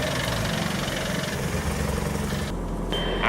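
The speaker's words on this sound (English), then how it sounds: "I can easily listen to the mellow tones of the engine" Steady, loud car engine running continuously at an even idle-like drone, with a slight change in tone near the end.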